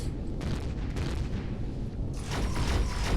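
Heavy ion cannon and plasma weapon fire in the space game Empyrion Galactic Survival, a steady barrage of deep booms and rumbling blasts that swells louder toward the end.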